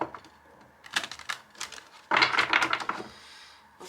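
Oracle cards shuffled and laid out on a table, giving a few soft papery taps and clicks, then a denser burst of flicking and rustling near the end, close and fairly quiet with no talk.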